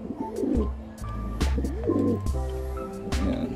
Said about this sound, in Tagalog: Yung mga kalapate ng tatay ko.